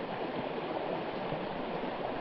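A creek flows in a steady, soft wash of water on a mule deer hunt in Utah, a constant rushing hiss with no breaks or voices.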